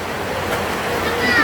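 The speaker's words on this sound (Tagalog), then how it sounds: "Ito lang yung aming ilog na niliguan." The Bansilaw River flows in a steady broadband rush that sounds fairly close and continuous, with outdoor wind noise and a brief faint whistle-like tone near the end.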